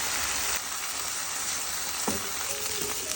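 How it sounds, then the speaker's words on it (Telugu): Ridge gourd curry frying in a pan gives a steady, close hiss of sizzling oil throughout, with a brief stir or clink near the end and no talking. "ఒకసారి మిక్స్ చేసి మూత పెట్టి ఒక 3 మినిట్స్ వేగనివ్వండి"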